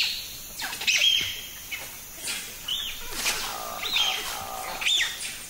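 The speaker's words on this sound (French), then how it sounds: "les dianes sont les premiers à sonner l'alarme" Diana monkeys in Taï National Park call in alarm at a fake panther. Sharp high chirps and squawks come in repeated bursts, fairly close, over a background hum of forest insects.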